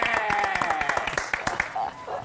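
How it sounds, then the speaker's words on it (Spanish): An audience applauds four tango musicians of La Mufa Tango Instrumental with dense, lively clapping that thins out toward the end, while voices speak and call out over it. "aplauso para los cuatro"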